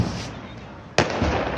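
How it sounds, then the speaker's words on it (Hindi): Diwali firecrackers burst from a rooftop amid festive surroundings: a muffled rumble of distant blasts, then a sharp loud crack near the end of the first second and another pop at the close, with no talking. "हर जगह पटाखे पटाखे फट रहे हैं"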